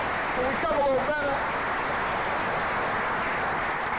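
Audience in a Philadelphia symposium hall applauding and cheering, a steady wash of clapping filling the room from start to finish, with a brief shout or whoop near the beginning.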